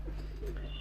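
Pigeons kept at a rural farm give a soft, brief coo, faint and close, over a steady low background hum.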